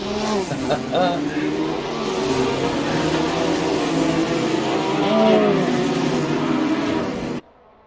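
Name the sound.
race cars starting first lap in video game Assetto Corsa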